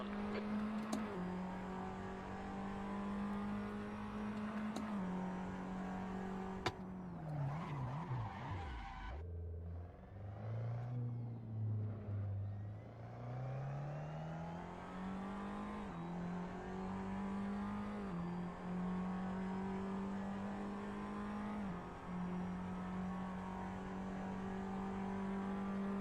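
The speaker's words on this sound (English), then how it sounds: "Watch your mirrors, there's a car approaching." A race car engine in a sim racing game at Monza drones loudly and continuously, the pitch dropping and climbing through gear changes, with brief tire squeal near the middle of the lap.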